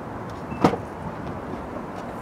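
The trunk of a 2017 Nissan 370Z opens with a single brief latch click and thunk, heard alone over a quiet, steady background.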